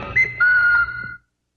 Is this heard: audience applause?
no